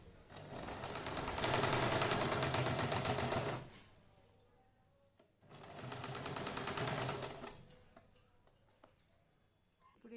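A sewing machine stitching blouse fabric runs in two steady bursts of rapid mechanical chatter, each a few seconds long, with a short pause and faint handling between them.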